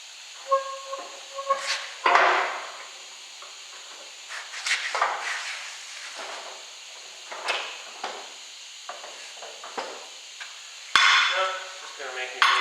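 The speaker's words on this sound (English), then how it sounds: "I'm just going to try to rip the old valve stem out real quick with the tire on it." Old valve stem being ripped out of a flat tire, with the tire still mounted, on a barn-find 1977 Ford Bronco. Irregular sharp metallic clanks and knocks are mixed with short hissy scraping bursts, close up and without talk.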